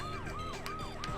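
A police car siren in the video game Blast Corps, the car sitting in a maze deep underground, wails in steady rising and falling cycles, loud and continuous.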